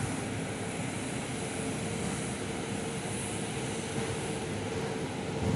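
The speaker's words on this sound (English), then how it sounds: "New Zealand 174 now taxiing outbound, heading over to Auckland today." Air New Zealand Boeing 787-9 Dreamliner taxiing outbound at Perth, a steady broadband engine roar with a low rumble, constant and unbroken throughout with no voices.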